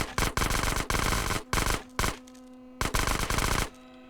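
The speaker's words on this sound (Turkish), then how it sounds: "Bak hepsinden önce vuruyorum" Automatic gunfire rattles in GTA San Andreas, coming as several loud, close bursts of rapid shots separated by short pauses, with no speech over it.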